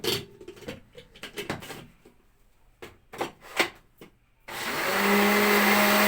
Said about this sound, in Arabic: هنضربهم بقى في الخلاط